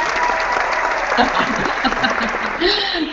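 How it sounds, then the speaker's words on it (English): Audience applause fills the room as a steady wash of clapping, with a voice talking over it partway through. "I want to applaud everybody"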